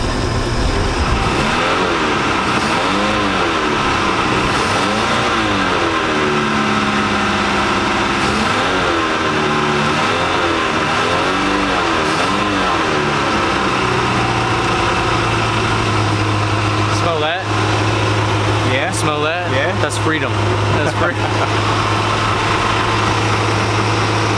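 Inboard engine of a 1999 Chaparral 1930 SS boat under restoration, running loud and close, with several rising and falling revs before settling into a steady low idle.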